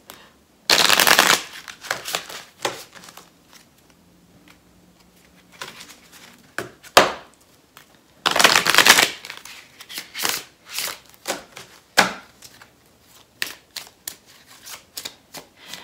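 A deck of love oracle cards is shuffled in two loud, close riffling bursts, followed by scattered lighter taps and card handling in an otherwise quiet room.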